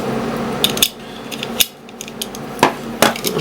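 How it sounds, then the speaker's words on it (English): Small metal parts of a Tokyo Marui SIG P226 airsoft pistol clicking and tapping as the decocker lever is fitted, a few sharp close clicks spaced irregularly over a quiet background. "So now you can put in the decocker lever."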